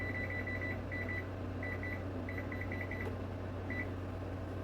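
Repeated electronic beeps from a kitchen timer being set for 15 minutes, short rapid clusters of tones at steady pitch over a constant mechanical hum, with no talking.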